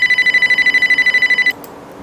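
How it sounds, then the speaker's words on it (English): A telephone rings loudly and close in rapid, steady electronic trills for about one and a half seconds, then cuts off into quiet room noise. "I think I can hear the ringing. Yep, there's the phone."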